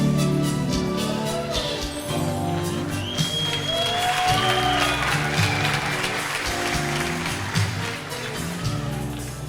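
An audience at a Rwandan stage show applauds to welcome a guest, a steady, fairly loud clapping that is mixed with crowd noise and background music.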